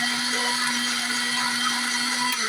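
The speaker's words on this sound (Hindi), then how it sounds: "मिक्सी जार में हमने ऐड कर दिया है प्याज को," Mixer grinder jar blending onions and water into paste, a steady loud whirring motor whine that runs without a break, close up and alone.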